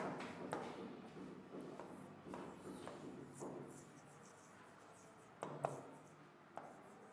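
Chalk or marker writing on a board in a class 9 biology lesson, soft scratchy strokes in uneven bursts, fairly faint and close, with a couple of louder knocks near the end and no talk.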